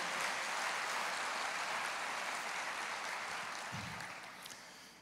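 A church congregation applauds during a worship service, a dense, sustained wash of clapping that holds steady for several seconds and then gradually thins out toward the end.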